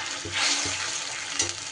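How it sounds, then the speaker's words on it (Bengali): A paste of ginger, green chilli and tomato fries in a pan, giving a soft, close sizzle broken by a few low stirring knocks. "এবার মশলা খুব ভালো করে কষাতে হবে।"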